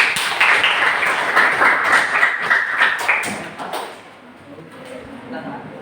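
A classroom audience applauds steadily for about four seconds, a dense wash of many hands clapping, then it thins out and a voice begins talking.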